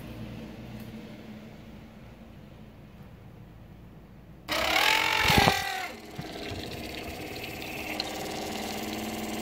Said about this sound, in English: Pumping, pumping, pumping.